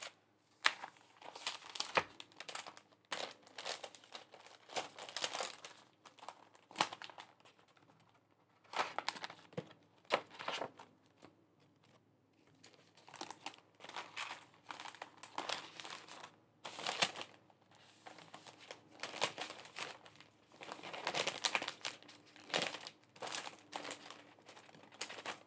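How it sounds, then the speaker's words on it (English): Paper envelopes are slid and packed into a plastic bag, giving close, quiet crinkling and rustling in irregular bursts with short pauses, heard alone without talk. "I get the envelopes and I go ahead and put it in the plastic bag."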